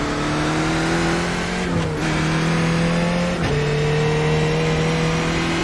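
A race car engine in the iRacing sim drones loud and steady at high revs, with two quick shifts that briefly dip the pitch before it climbs again.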